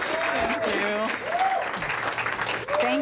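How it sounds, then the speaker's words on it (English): A studio audience breaks into applause that carries on steadily while a presenter's voice talks loudly over it. "Big round of applause."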